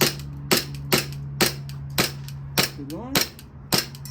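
A VFC Umarex Glock 17 Gen 5 airsoft pistol fires about eight sharp, evenly spaced shots in rapid succession, each a crisp snapping crack, with a short spoken phrase heard between them.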